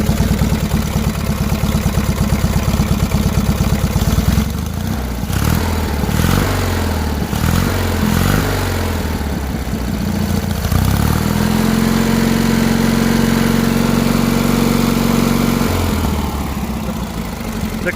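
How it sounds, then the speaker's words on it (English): A Briggs opposed twin engine with a stock muffler and stack runs loudly, idling with uneven, sputtering changes in speed midway before settling into a steady, even drone, its cooling fan roaring; no voices. "the cooling fans on these opposed twins are ridiculously loud"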